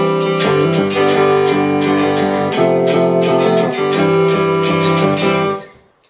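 A cigar box guitar plays a riff slowly in open G, with clear plucked notes and hammer-ons that ring out alone before fading at the end.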